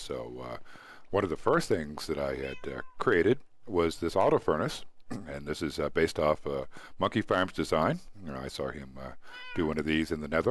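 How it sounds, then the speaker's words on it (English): House cats meow in the background while someone talks continuously over them about a Minecraft build, their cries faint and intermittent beneath his voice. "You can hear my cats in the background here."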